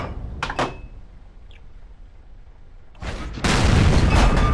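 A deep booming tank cannon shot in World of Tanks, from a T25 AT tank destroyer, followed a couple of seconds later by another heavy blast and a rumbling roar that lingers.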